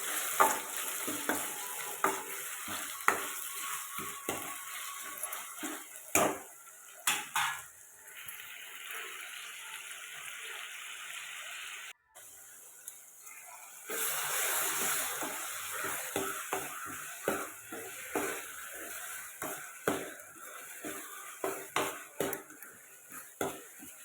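A spoon stirs a prawn and plantain curry in a pan, giving repeated scraping clinks of metal against the pan over a soft frying sizzle. Short bursts of stirring are broken by a brief quiet pause near the middle.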